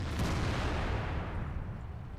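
A heavy tank cannon shot in World of Tanks booms loudly and rolls into a long, rumbling decay, with no voices over it.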